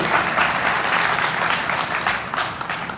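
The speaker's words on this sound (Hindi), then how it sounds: "तो भाई जोरदार ताली हो जाए भाई के लिए।" Audience applause at a content creation workshop: a dense, steady burst of clapping from a roomful of people, loud and close, lasting about three seconds with no voices over it.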